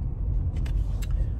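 A car drives slowly around an outlet mall parking lot, a steady low engine and road rumble heard from inside the vehicle, with a couple of faint higher swishes.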